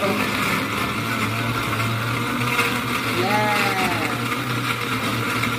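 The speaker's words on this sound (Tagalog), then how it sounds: "Blender, blender, blender." A blender makes a mango shake, running steadily with a loud, constant whirring motor drone throughout, as a voice speaks briefly over it.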